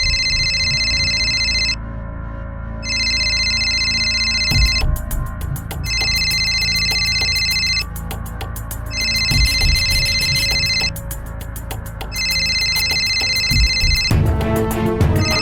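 A mobile phone rings repeatedly in bursts of a bright electronic ringtone, separated by short gaps, with steady ticking and low room noise underneath and no talking.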